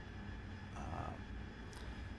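A Harrier jet in the DCS flight game cruises low from Camp Bastion toward Kandahar, its engine a faint, steady broadband roar with no change in pitch, alone.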